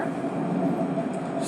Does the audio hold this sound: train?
yes